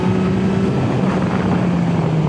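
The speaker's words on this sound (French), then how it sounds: "on peut rentrer donc au quick shifter là, comme je le fais, hein, pour rentrer les rapports" A Honda CB1000R Black Edition (2021) motorcycle engine under way, a loud continuous droning roar with wind noise throughout; individual quick-shifter gear changes are not clearly distinguishable in the short stretch.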